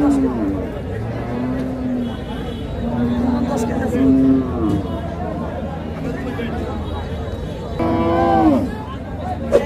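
Cattle bellow and low repeatedly at a village cattle market near Dhaka, fairly close and loud, over constant crowd chatter and voices.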